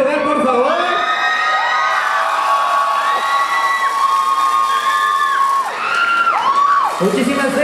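An audience cheers loudly at the WCS México 2018 awards ceremony, a dense, continuous crowd roar of shouts and rising whoops that carries on for several seconds before briefly dipping and surging again.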